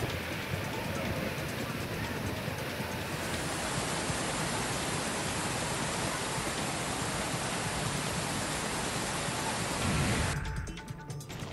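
Amboli waterfall in Sindhudurg, swollen by monsoon rain, gives a loud, steady roar of rushing water that holds unbroken for several seconds before it cuts off abruptly near the end.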